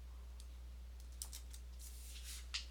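Typing on a computer keyboard while entering a web address, sparse light clicking keystrokes in small bursts over a low steady hum, fairly faint and close.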